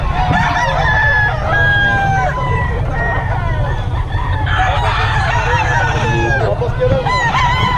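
Roosters crow repeatedly and loudly among cackling fowl at a gamefowl sale, several birds overlapping close by amid a steady crowd murmur and low background rumble, with people chatting throughout.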